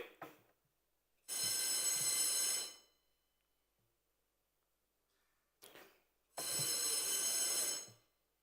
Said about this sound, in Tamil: அழைப்பு மணியை, அதாவது கோரம் பெல் 3 முறை ஒலிக்க செய்வார்கள்